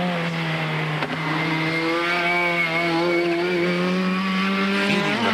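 A 1980s touring car at Oulton Park on slick tyres over a very wet track, engine note rising steadily under acceleration, loud and close, a continuous climbing drone with no voices.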